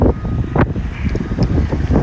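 Heavy wind buffets the microphone with loud, continuous rumbling gusts at a beach house construction site in Barbados.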